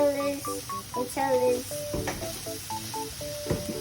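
Onions fry in a pan while being stirred, giving a soft sizzle with scraping and clinks of the utensil, partly covered by background music and voices.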